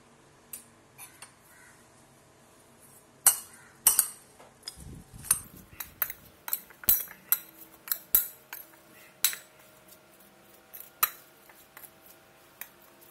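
Cut raw banana tossed with chili powder and salt in a metal bowl, with scattered clinks and scraping taps of a spoon against the vessel, sharp and close, irregular and sparse with quiet gaps between.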